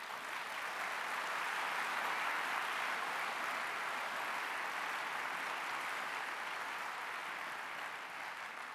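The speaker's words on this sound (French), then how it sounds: "Vous les avez applaudis, je vous en remercie, mais vous vous êtes aussi applaudis parce que vous le méritez vraiment" An audience at a graduation ceremony in a hall at Le Corum applauds in a steady, dense wash of clapping that holds at an even level for several seconds, heard from a distance and fairly quiet.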